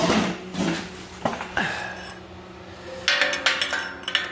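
Two metal plates from a car's front subframe repair are handled and set in place in a workshop, giving a few close clinks and knocks spread across the clip, with quieter shuffling between them.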